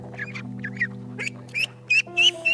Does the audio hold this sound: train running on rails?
no